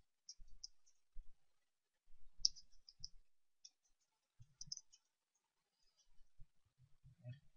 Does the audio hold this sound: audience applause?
no